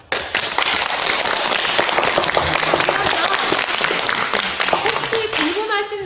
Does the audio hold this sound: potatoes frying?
no